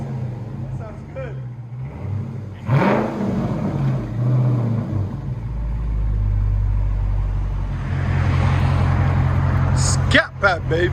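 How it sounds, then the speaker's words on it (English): A 2022 Dodge Charger Scat Pack Hemi with Flowmaster Outlaw exhaust and carbon fiber tips rumbles loudly and steadily close by, with a sharp rev near the end, while people talk over it. "Scat Pack, baby. Hemi. Carbon fiber tips. FLOWMASTER Outlaws."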